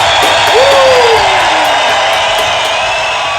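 Audience applause and cheering for an arcade gaming channel's celebration, a loud, steady wash of clapping with a whoop, rising whistle-like tone sweeping through.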